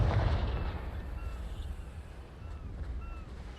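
A Confringo fire spell explodes in the video game Hogwarts Legacy, a loud low boom at the start that rolls into a long rumbling decay and fades under a steady low roar.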